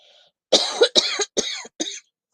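A single person coughs in a short burst of four harsh, closely spaced coughs, close and clear, with a faint breath just before.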